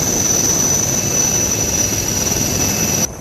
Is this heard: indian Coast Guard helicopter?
yes